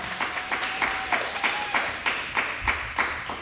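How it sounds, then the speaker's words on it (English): A studio audience at a live talk show in a Houston showroom claps in a sparse, rhythmic pattern, a few hands striking in near-regular beats at moderate level rather than a full ovation. "Audience, give yourselves a round of applause."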